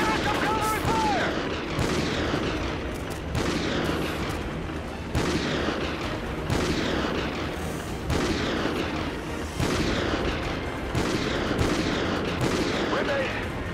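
Battlefield gunfire in Call of Duty: Ghosts, rapid repeated shots and booming blasts forming a dense, nearly continuous barrage, loud and close, with soldiers shouting over it.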